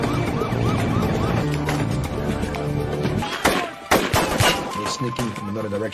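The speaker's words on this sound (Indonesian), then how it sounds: "lokasi yang sedang terjadi baku tembak antara pihak kepolisian dengan anggota kartel narkoba" Gunfire erupts in a shootout between police and drug cartel members trying to break through a border fence. Loud, sharp shots crack amid engine and siren noise, with a dense burst of bangs around the midpoint.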